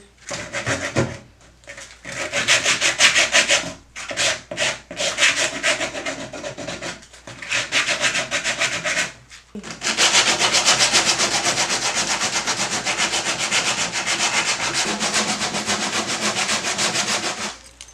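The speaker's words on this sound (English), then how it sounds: "Yeah, I'm just gonna sand that down." Rough scratchy power sanding on a wooden dresser, first in short bursts with pauses, then one long steady stretch of continuous rubbing up close.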